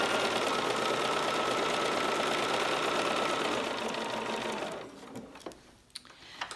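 A sewing machine stitches quilt pieces at a fast, steady pace, heard close for about five seconds before stopping, followed by a few soft handling clicks.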